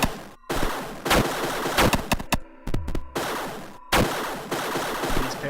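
Rapid bursts of video game gunfire from an infinite-ammo weapon as enemies keep spawning, loud sustained volleys broken by short pauses and single shots, with no talking.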